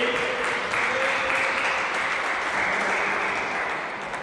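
Teammates at a local club cricket match in Bromley clap a batsman reaching his fifty, a steady, moderately distant patter of applause lasting several seconds with no talk over it.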